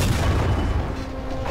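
An M10 Wolverine tank cannon fires in War Thunder, a heavy booming blast with a long rumbling tail filling the whole moment, loud and close with no talking.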